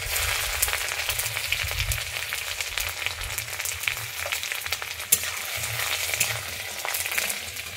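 Chopped garlic and ginger frying in hot white oil, giving a bright, continuous close sizzle with crackling pops and light stirring scrapes throughout.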